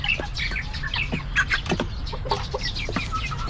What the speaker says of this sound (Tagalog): Yan mo manok natin.